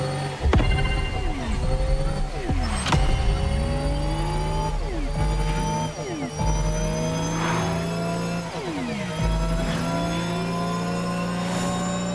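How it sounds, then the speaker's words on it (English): Lotus Evija electric hypercar whirring loudly up and down through speed, its high electric motor whine rising and falling in repeated sweeping passes over steady road rumble. "The Lotus Evija, the EV connoisseur's dream."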